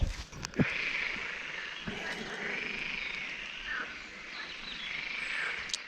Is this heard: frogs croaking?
yes